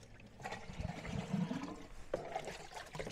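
Water poured from a can or hose onto a newly transplanted broccoli plant in a container with fertilizer stirred in, a soft gurgling trickle running steadily for a few seconds without speech, in a Texas zone 9 garden.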